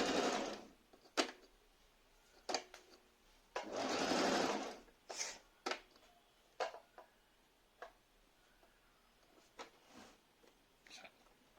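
A Singer Talent sewing machine stitches a zigzag in short, close bursts of whirring, one run longer than the rest, separated by soft clicks and handling noises.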